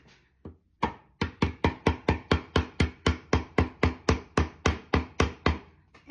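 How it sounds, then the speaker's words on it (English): A spoon ring clamped in a ring bender is struck by a hammer, about twenty sharp metallic blows in a steady, even rhythm, loud and close with no talking. "Use my hammer"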